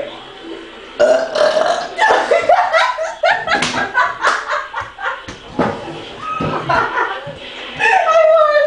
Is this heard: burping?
yes